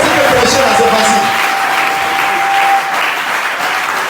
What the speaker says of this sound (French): Acclame le Seigneur si tu es là. Acclamez bien, encouragez-moi.